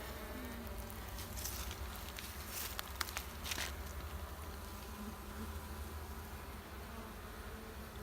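A steady, faint hum of many honey bees buzzing, from a colony in a brick wall, continues throughout, with occasional closer passes and light tapping noises.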